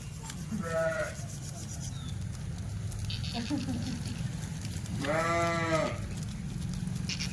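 Kathewadi goats bleat twice on a farm, a short call near the one-second mark and a longer, louder, wavering bleat later, over a steady low rumble of background noise.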